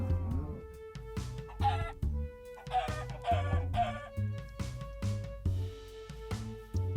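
A Minecraft chicken clucks in repeated short calls over a looping musical game background, evenly spaced and fairly clear.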